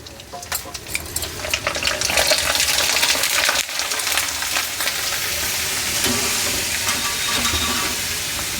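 Sago fingers frying in hot oil, a loud, dense, continuous sizzle heard close up, with occasional stirring scrapes and no talking.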